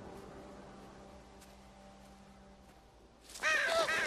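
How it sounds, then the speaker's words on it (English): Birds caw in a quiet outdoor scene from The Walking Dead video game: faint ambient hum for several seconds, then a burst of loud, harsh, repeated crow-like calls near the end, with no talk. "It's just birds, apparently."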